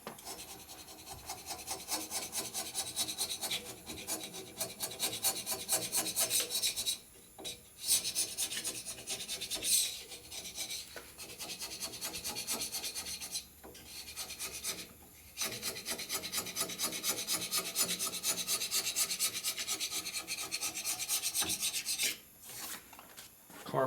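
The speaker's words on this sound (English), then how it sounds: "Carbon and gasket scraper." A carbon and gasket scraper works over the cylinder head of a 2005 Harley-Davidson Sportster XL 1200, making a continuous, close, harsh rasping scrape in steady strokes, with a few short pauses and no talking.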